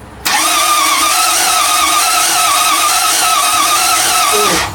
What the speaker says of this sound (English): That squealing noise must be the new starter motor.